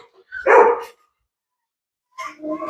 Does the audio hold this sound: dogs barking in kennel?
yes